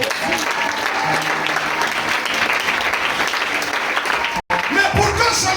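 A church congregation applauds loudly and steadily throughout, dense clapping from a crowd filling the room, cut by one brief dropout near the end and ending with a voice rising over it.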